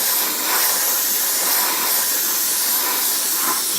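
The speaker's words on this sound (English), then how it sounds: "I'm literally just going to mist coat this." Grey primer is misted from a spray can or airbrush onto a 1/35 scale plastic tank model, a loud, close, continuous hiss that swells slightly and keeps going without a break.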